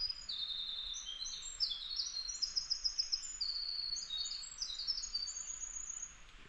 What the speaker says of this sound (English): I really just wanted you to hear that bird.